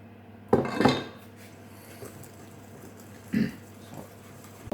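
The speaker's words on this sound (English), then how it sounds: "I'm going to add a ladle by ladle and mix it in slowly into my egg yolks" Boiled milk is ladled into a bowl of egg yolks, sugar and corn flour and stirred in, giving a few clinks and scrapes of utensil against dish. The sounds are scattered and fairly quiet, with a low steady hum underneath.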